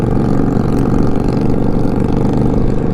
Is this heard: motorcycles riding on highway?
yes